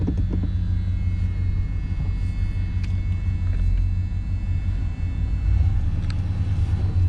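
A 1993 GMC 1500 pickup, revived after sitting for ten years, rumbles along with a steady low engine drone and road noise, close and continuous with no talk over it.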